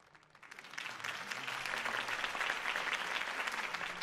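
A crowd bursts into applause after Harvey Dent's campaign speech in the game Batman: Arkham City, rising quickly from quiet and holding as a thick, even wash of clapping.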